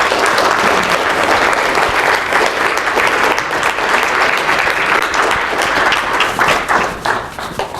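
Sustained, dense audience applause closing a university speaker series talk, many hands clapping steadily and loudly throughout with no speech over it.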